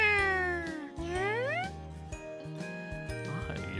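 Cats meowing in the Summer Pockets visual novel, several drawn-out mews with rising and falling pitch over steady game background music.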